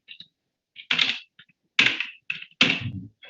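Typing on a computer keyboard comes through as a handful of sharp, separate clacks at an uneven rhythm with near-silence between them, close and fairly loud, while code is entered into R.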